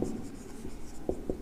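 Chalk or marker strokes writing numbers on a classroom board during a Class 6 maths lesson, a few scratchy taps and strokes spaced unevenly, with a brief quicker burst near the end.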